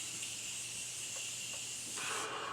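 A Morphe Continuous Setting Spray mists steadily from its bottle for over two seconds, a close, continuous hiss with a slight surge near the end, no talk.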